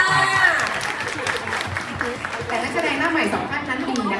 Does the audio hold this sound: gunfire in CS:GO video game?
no